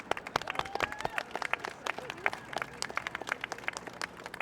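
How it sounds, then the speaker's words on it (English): A crowd claps at an outdoor Pride flag raising, the sharp claps dense and lively, with a few cheers and a voice briefly rising over the applause. "I just want to do one more round of applause for all of the Pride ERG."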